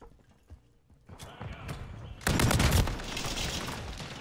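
Dense burst of gunfire from a Call of Duty: Modern Warfare 3 match, loud rapid shots and explosions erupting midway after quieter scattered pops, with a voice faintly in the background.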